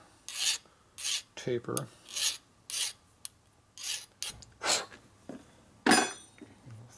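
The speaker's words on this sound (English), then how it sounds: "So I'm going to lightly file this corner out here." A metal file rasps across the corner of a part from a 1940-47 Linkert M35 carburetor on a Harley knucklehead, in about ten short, close strokes, some clustered in quick pairs, with quiet gaps between them.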